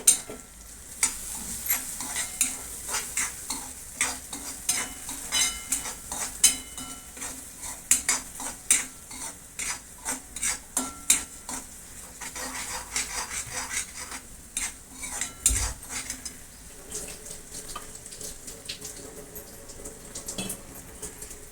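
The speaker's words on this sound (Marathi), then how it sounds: "हे लसूण आणि तिखट वाटलेलं आहे तर ते टाकून घेते मी दोन चमचे परतून घेऊया" Ground garlic and chili paste sautéing in a pan, a soft continuous sizzle under frequent scraping and clinking stirs, close and without speech.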